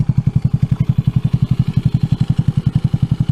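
A Honda NAVI motorcycle engine, running lean with its carburetor being adjusted, idles loudly and close up with a steady, rapid thumping exhaust pulse of even rhythm throughout.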